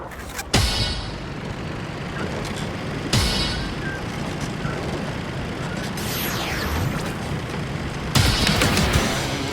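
Traffic in the Tony Hawk Pro Skater 3+4 video game, with a steady low vehicle rumble and road noise throughout, broken by a few sharp loud bursts and a passing whoosh.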